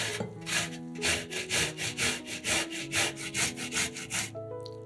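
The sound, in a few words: grating boiled beet on fine grater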